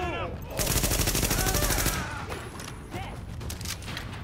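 Rapid automatic gunfire rattles in dense, loud bursts during a firefight in Tom Clancy's The Division, then continues in sparser shots, with faint voices underneath.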